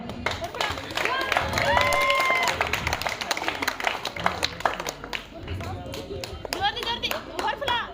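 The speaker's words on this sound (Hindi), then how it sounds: "एक बार जोरदार तालियां।" An audience at a 12th class school farewell party claps loudly in a crowded hall, a dense burst of applause mixed with chatter and a voice over a speaker system, thinning into scattered claps toward the end.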